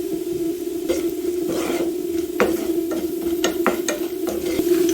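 Onions fry in a pan under a steady close sizzle while a spoon stirs and scrapes them in quick irregular strokes, with no voices.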